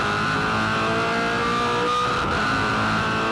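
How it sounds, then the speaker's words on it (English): A Chevrolet V8 Supercar at a 2006 Development Series race, heard working hard up the pit straight with a loud, continuous high-revving engine roar that stays dense and steady throughout, with no talk. "You could hear that Chevy working away up pitch straight"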